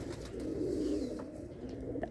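Pigeons in a rooftop loft with perching umbrellas coo in a low, steady, continuous murmur, close and moderately loud, with faint chirps scattered over the top.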